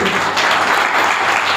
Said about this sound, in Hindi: जोरदार ताली यस्सु दे जलाल के लिए